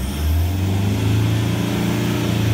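A Toyota Land Cruiser Prado 120 engine runs close up with a loud, steady mechanical hum that shifts slightly in pitch as it revs.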